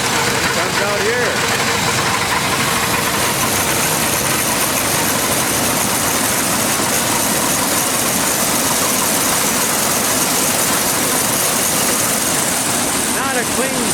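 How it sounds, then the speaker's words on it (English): A small 112 tractor engine, powering tools through a PTO hookup, drones continuously at close range, a dense low rumble with mechanical clatter throughout. "One engine runs all those different tools."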